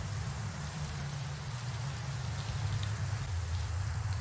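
Steady soft rain patter in a Minecraft hardcore world at night by a campfire, a continuous even hiss with no voices.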